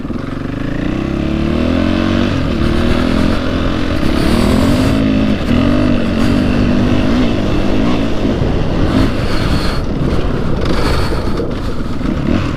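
A Husqvarna 501 FE dirt motorcycle engine runs close and loud on an Oregon trail, its steady rumble rising and falling with throttle changes over about twelve seconds, no talk over it.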